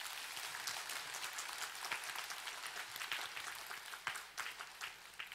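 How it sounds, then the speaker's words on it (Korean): Congregation at a Catholic praise and healing retreat applauds, a soft, dense patter of many hands that stays quiet and distant throughout, with a few sharper claps standing out near the end. "믿는 분들은 주님께 박수 보내드립니다."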